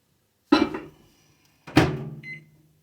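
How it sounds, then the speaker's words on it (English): A microwave oven heating a pan of banana pudding with cream cheese, heard as two separate bursts of a door thunk and a loud running hum, each fading out, the second ending with a short high beep. "Let's put it in the microwave."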